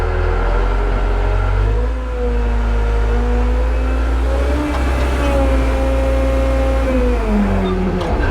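A forklift engine runs close by at a steady idle, its low droning hum slightly changing pitch as the forks tilt up.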